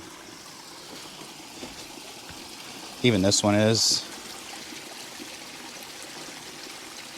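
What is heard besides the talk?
small koi pond waterfall trickling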